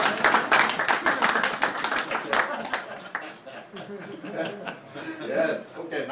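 An audience at a magic lecture bursts into brisk clapping that fades out after a couple of seconds, with chuckles and scattered voices continuing afterward.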